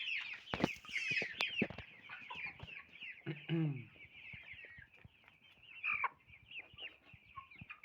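Cobb 500 broiler chickens cluck and squawk nearby in a steady, busy chatter, with one louder rough call partway through.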